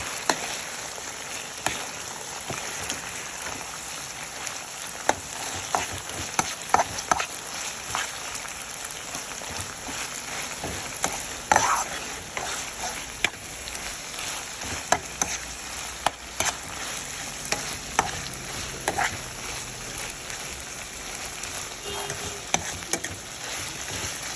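Saltfish with vegetables and black pepper sizzles steadily in a pan while a utensil stirs and scrapes through it, giving irregular close clicks and knocks over a constant hissing fry.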